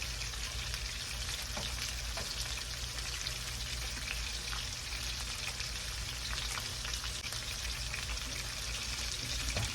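Parmesan crusted pork chops sizzle and fry steadily in a pan, a dense continuous crackle with fine spitting pops, close and unbroken throughout with no talking.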